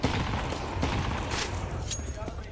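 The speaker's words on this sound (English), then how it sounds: "The decoys pop." Decoy grenades popping during a Counter-Strike match, a dense run of small gunfire-like pops and crackles over constant game noise and crowd murmur, with a brief louder burst near the end.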